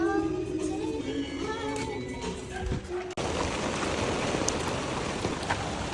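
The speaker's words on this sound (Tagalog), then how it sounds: "Walking trip lang kasi namiss ko maglakad sa ulan." Steady rain falls outdoors during a walk, a dense continuous wash of drops close by, with faint voices and a few clattering sounds in the first half before the rain noise alone fills the rest.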